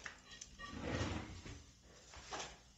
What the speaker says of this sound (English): Nice little drawer on top.